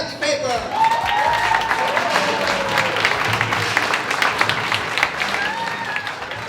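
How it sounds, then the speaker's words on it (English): Audience applause greeting a speaker at a motivational networking talk, a dense wash of many hands clapping steadily throughout, with faint voices and cheers mixed in at the start. "Give it up for Cathy Paper."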